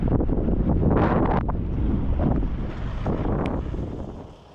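Strong gusting wind buffets the microphone outdoors at the former Tonopah Army Airfield, a loud low rumbling roar that swells and eases in waves before tapering off.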